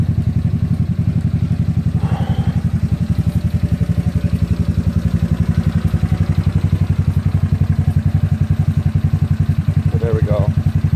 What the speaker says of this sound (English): the engine's been running for how long now?